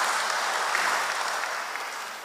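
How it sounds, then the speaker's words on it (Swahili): A congregation applauds during a live Kikuyu church service, with dense, steady clapping that holds at a fairly loud level for the whole stretch, with no voices over it. "Situwapigie makofi walipita."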